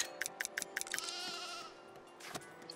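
Sheep bleating in the farm-building game Foundation, a quick run of five short bleats in a steady rhythm, then a longer drawn-out bleat and a final cry, fairly close and clear.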